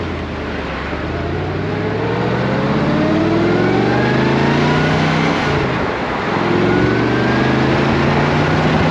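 A 1993 Chevrolet Corvette with an LT1 5.7L V8 accelerating on a test drive, its engine note climbing steadily through the gears with rising harmonics and a brief dip at a shift, loud and continuous from inside the car.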